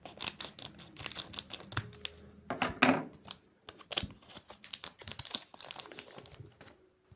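A pack of Jujutsu Kaisen anime trading cards being torn open up close, with crisp crinkling of the foil wrapper, rips, and card rustling in quick bursts, no talking.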